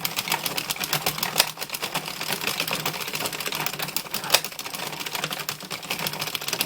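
Addi knitting machine being cranked: dense, rapid clattering of plastic needles ticking in a steady rhythm, close and fairly loud, continuing without pause and with no talk.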